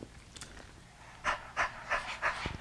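A person pants in quick, rhythmic breaths like a puppy during a breathing exercise, with four or five short, breathy pulses close to the microphone after a quiet start.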